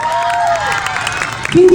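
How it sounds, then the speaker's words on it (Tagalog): A barangay crowd at a night pageant's national costume competition cheers and applauds briefly, a loud wash of clapping and shouts with a voice over the top at the end. "pwede po ba akong makahingi ng masigabong palakpakan at hiyawan?"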